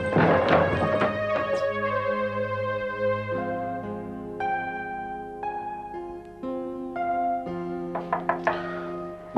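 Knocking on a door: sharp raps at the start and again near the end, set against loud, sustained dramatic music.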